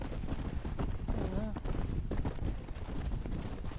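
Horse hooves clip-clop in the Red Dead Redemption video game, a quick close trotting rhythm with a brief whinny, mixed under someone speaking.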